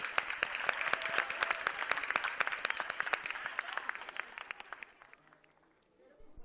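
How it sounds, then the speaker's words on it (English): Applause for young participants at a pre-primary school annual day in Kandivali, Mumbai: a dense crowd of hands clapping steadily and loudly, then thinning out and fading to near silence near the end. "That certainly calls for a huge round of applause for all our participants today."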